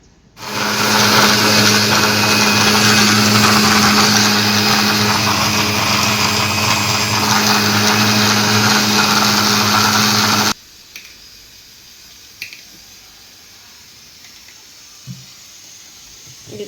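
Mixer grinder whirring loud and steady for about ten seconds while grinding a masala paste of coconut, coriander, tomato, onion and a little sesame, then cutting off abruptly into a quiet room with a few faint knocks.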